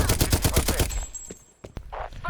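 LMG hipfire in Call of Duty Cold War multiplayer: a loud, rapid burst of automatic gunfire for about a second, then a few scattered shots and a brief game effect.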